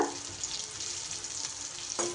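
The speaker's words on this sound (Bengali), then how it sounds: "এপিট ওপিট করে লাল লাল করে ভেজে নেব" Pieces of elephant foot yam fry in oil in a kadai, giving a faint, steady sizzling hiss with one brief clink near the end.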